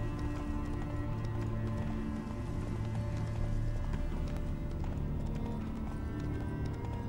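Heavily loaded horse galloping in The Witcher 3: steady rhythmic hoof clip-clop under continuous ambient game sound, moderately loud and alone without talk.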